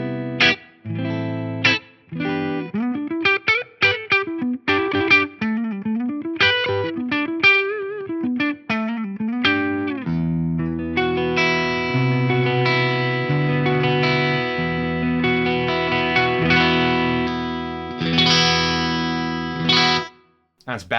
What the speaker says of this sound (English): I really like this combo on the neck humbucker of this guitar